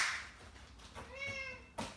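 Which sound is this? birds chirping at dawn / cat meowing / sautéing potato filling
cat meowing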